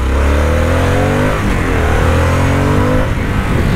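A 2024 Harley-Davidson Sportster S cruiser motorcycle accelerating hard, its engine note rising steadily through the gears with a brief dip at each shift, loud and close, with rushing wind noise underneath.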